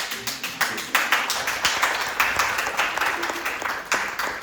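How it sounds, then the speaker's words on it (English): A small theatre audience claps at the end of a show. Distinct, fairly quick hand claps overlap in an uneven rhythm at moderate volume, with no voices over them. "You can clap now."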